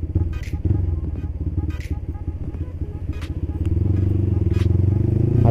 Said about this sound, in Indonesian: Tinggal kita coba aja nih knalpot di Kuala Namu